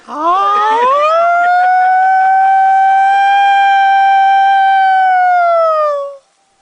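A single rising, sustained wail sung by a voice imitating an ambulance siren, held steady for several seconds before fading off.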